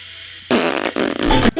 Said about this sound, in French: Un pet sauce.